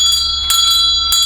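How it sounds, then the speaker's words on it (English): A church bell rocked on its wheel by a tugged rope rings out clearly with a bright sustained tone, struck again in repeated strikes about every half second, close and loud with no talking. "the rope rocks the bell back and forth"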